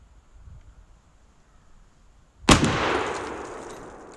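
A single loud, close blast from an AR-12 semi-automatic shotgun firing a turkey load, a sharp crack that decays into a long ringing tail after a quiet lead-in.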